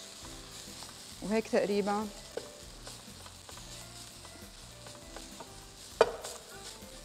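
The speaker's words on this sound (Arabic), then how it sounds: "ما دامي أنا قليتهم كلياتهم رح ضيفهم على بعض كمان آخر تقلاية كلهم سوا" Chicken thigh pieces fry in a pan with a steady low crackle, broken by a louder burst of sizzling early on and a sharp clack later; a voice speaks briefly near the end.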